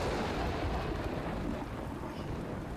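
Thunder and heavy rain in the video game Death Stranding, a dense, loud, continuous roar of rain and wind with a rolling low rumble underneath and no talk.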